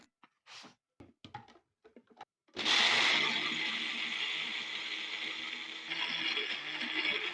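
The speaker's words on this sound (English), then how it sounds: "Now let's proceed to blend our peanut." A blender grinding peanuts into smooth peanut butter kicks in after a few soft clicks and handling noises, then runs as a loud, steady, whirring roar to the end.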